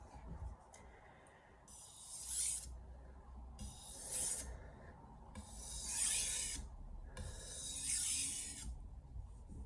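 Knife blade stroked across a 1000 grit soaking whetstone, four slow, evenly spaced wet rasping passes, close and fairly quiet, with soft scraping between strokes.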